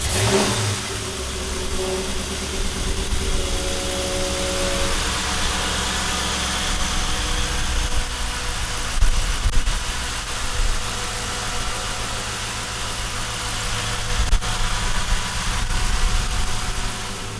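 A 1940 Willys street rod's engine turns over and settles into a steady, close idle with a few light revs rising above the rumble, and no talking.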